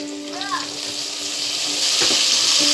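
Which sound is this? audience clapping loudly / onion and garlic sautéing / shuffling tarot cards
onion and garlic sautéing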